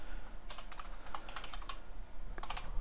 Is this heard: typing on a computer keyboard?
yes